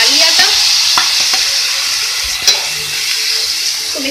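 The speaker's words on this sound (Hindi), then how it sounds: "सबसे पहले ऑयल में हम ऐड करेंगे जिंजर गार्लिक पेस्ट, ऐड करेंगे अपना कीमा जो हमने बॉईल कर लिया था नमक के साथ" Boiled minced keema, cooked with salt, is fried in oil with ginger garlic paste for keema kachori. A loud, steady sizzle fills the pan while a spoon scrapes and stirs it in irregular strokes.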